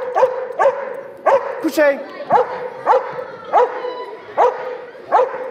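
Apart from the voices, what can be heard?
dog barking at its ball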